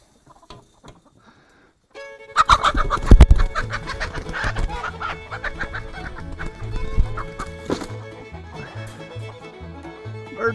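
Chickens clucking near a sack of chicken feed in a backyard coop, a busy overlapping flock of clucks and squawks starting after a short quiet moment and running steadily to the end.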